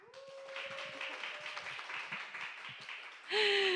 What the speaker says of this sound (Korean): 여기 계신 분들이 또 이렇게 박수를 뜨겁게 쳐주시니